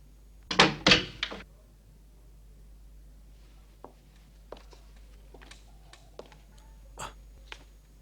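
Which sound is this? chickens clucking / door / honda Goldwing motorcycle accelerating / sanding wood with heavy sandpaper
door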